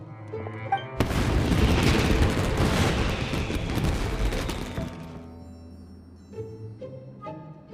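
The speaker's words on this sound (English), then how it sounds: "Yoimiya, this is turning into a bit of a fireworks display" Fireworks burst in Genshin Impact: a sudden loud barrage of booming, crackling explosions that runs for about four seconds, then fades into quieter game music and scattered softer pops.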